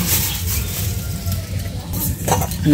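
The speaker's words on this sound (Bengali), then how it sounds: "তেল গরম হয়ে গেছে, এখন ওই যে মাছ ভেজে নিব" Fish fries in hot oil in a home kitchen, a steady close sizzle with occasional scraping and clinks of a utensil in the pan. Voices are faintly audible in the background.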